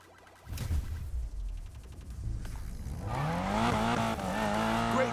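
Tires squeal and skid as a car drifts in a video game, with engine revving throughout; the screech builds and grows louder in the second half, continuous and close.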